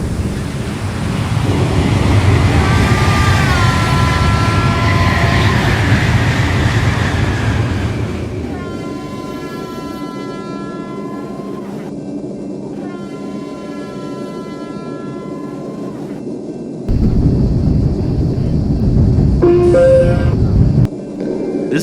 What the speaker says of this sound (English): The next train approaching your station will be an express train and will not stop.